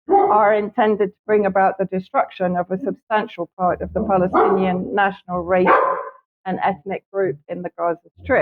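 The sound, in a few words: dog barking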